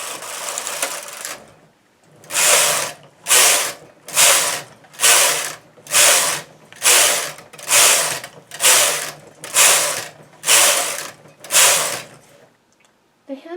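A domestic knitting machine carriage sweeps back and forth across the needle bed, knitting hem rows for a blanket. About a dozen evenly spaced, close rasping passes with short gaps between them, no voices.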